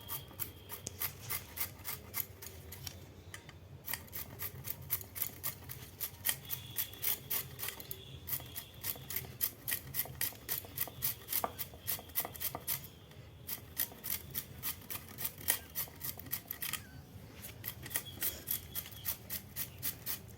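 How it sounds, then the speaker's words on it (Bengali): A whole carrot is grated in a salad machine with a steady, fast rasping rhythm that runs on for many seconds, pausing briefly now and then, fairly quiet and with no voices. "এইভাবে পুরো গাজরটা আমি এইভাবে স্যালাড মেশিনে আমি রেডি করে নেব"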